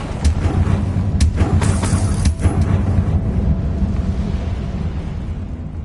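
Fiery Confringo blast spell in the Hogwarts Legacy video game, a loud, sustained rumbling roar with a few sharp crackling bursts early on, dense and continuous throughout.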